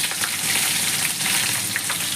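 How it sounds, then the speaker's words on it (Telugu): Brinjals sizzle and fry in hot oil tempered with seasoning seeds, a steady, loud, close crackle with no talking. "దీని తర్వాత వంకాయలు వేసుకోవాలి"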